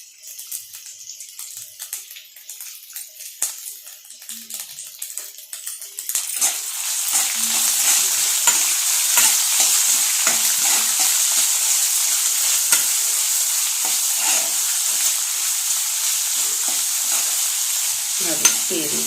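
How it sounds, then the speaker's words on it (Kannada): Onions for chitranna frying in a pan, starting with light stirring and clinks before a loud, steady sizzle builds and holds, with occasional scrapes of a spoon stirring through. "ನೋಡಿ, ಈ ರೀತಿ ಫ್ರೈ ಮಾಡ್ಕೊತೀವಿ."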